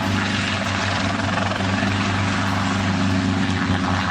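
A helicopter flies steadily nearby, its rotor and engine making a loud, continuous droning whir with a low rhythmic thump that stays constant and then cuts off abruptly at the end.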